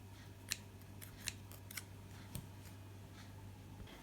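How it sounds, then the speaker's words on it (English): Scissors snipping loose thread ends after sewing, several crisp separate snips close by and quiet, over a faint steady hum. "now just cut off all the little bits and pieces that you've got"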